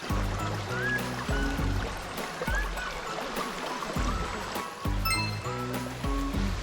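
A mountain valley stream rushes past a campsite, a steady close wash of flowing water that runs continuously under faint intermittent background noise.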